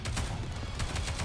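Rapid bursts of gunfire in the video game NIKKE: Goddess of Victory, a steady dense volley of shots repeating through the short stretch at fairly constant loudness.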